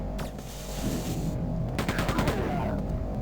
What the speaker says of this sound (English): this machine gun has crazy recoil, which just pulls your gun up really fast